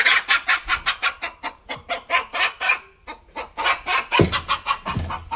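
A domestic hen clucks repeatedly in a steady, rhythmic series of close, loud calls, with a brief pause midway before the clucking resumes, near a home garage.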